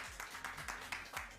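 Audience clapping for a participant named Elias on a French TV show, a short burst of applause heard faintly at a distance, with soft rhythmic claps.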